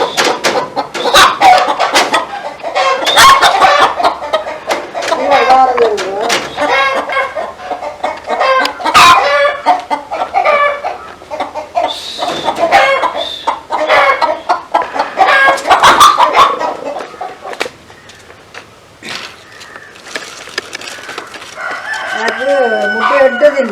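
Chickens in a village coop in Jaffna cluck loudly and repeatedly up close, with a rooster crowing among them and some bursts of overlapping calls across the whole stretch.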